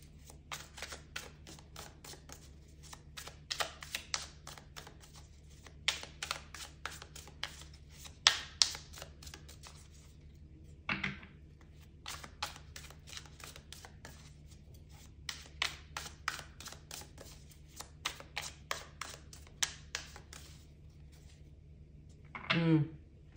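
Tarot cards riffled, flicked and pulled in a steady run of quick, crisp papery snaps and shuffles, close and fairly quiet, with a louder thump near the middle and a rustle at the end; no talking.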